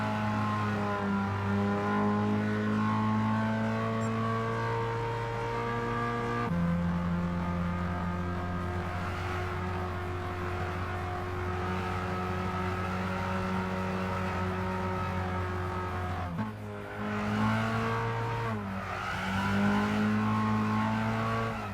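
Engine of a 270 hp Mercedes A160 racing in Gran Turismo 6, a loud steady drone of revs that holds long stretches, drops sharply on shifts or lifts and climbs again near the end.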